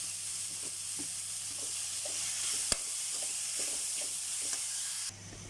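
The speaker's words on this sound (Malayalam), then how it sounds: "ക്യാപ്സിക്കം ഐറ്റംസ് ഇതിൽ ചേർത്ത് കൊടുത്ത് നന്നായി വഴറ്റുക" Beans and capsicum sauté in hot oil, producing a steady close sizzle with soft rhythmic stirring scrapes, one sharp clack midway, and no speech.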